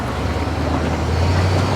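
An amphibious Ride the Ducks tour vehicle climbs from the water up a ramp onto land, heard as a loud, steady engine rumble with road and water noise close by.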